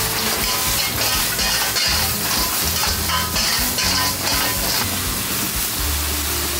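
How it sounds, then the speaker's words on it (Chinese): Fried pork stir-fried in a wok with carrot, scallion and ginger: a steady, loud sizzle with scraping and tossing throughout, continuous and close, with no talking. "放进去翻炒一下"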